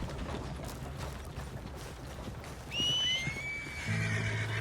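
Horse in the Red Dead Redemption video game whinnying loudly in a rising, wavering call, with background ambience and faint hoof clops beneath, no talk.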